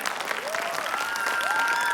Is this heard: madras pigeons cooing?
no